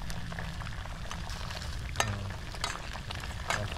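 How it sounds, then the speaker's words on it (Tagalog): A pot of adobo with kangkong (water spinach) boils steadily up close, a continuous bubbling, sizzling wash with occasional louder pops and no talking. "Pakuluin lang po natin ng konti yan."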